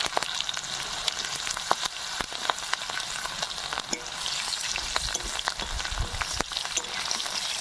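Black cumin, cumin, garlic, green chillies and dry red chillies frying in hot oil for a Bengali pumpkin-leaf dish, a steady close sizzle with scattered sharp crackles and stirring clicks throughout, no voices.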